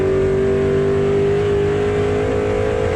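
A Mazda race car engine screams at full revs, bouncing hard off the rev limiter in first gear on a drag strip qualifying pass, with a steady, loud, unbroken drone throughout.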